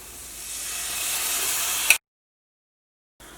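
Small cut chicken pieces sizzle in masala in a hot pan, a soft hiss that swells for about two seconds and then cuts off abruptly, followed by silence and a brief return of the sizzle.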